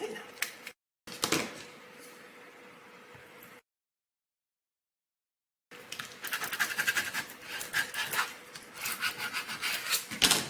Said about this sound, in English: So I'm going to cut away some of this vinyl so that it doesn't fall back on and mess up my design.